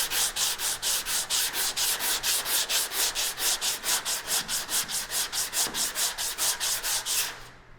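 A cloth rubs wax by hand onto the body of a 1952 Ford panel truck, making loud, close, rhythmic swishing strokes, about four per second, steady for several seconds before stopping.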